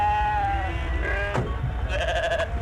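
Goats bleat in a rural outdoor scene in an Indian action film, a couple of sustained wavering cries fairly close and loud over a steady low background rumble.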